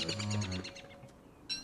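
Bird calling in the survival game Don't Starve, a quick burst of chirps and a short warbling call, close and clear, followed by a brief bright chirp.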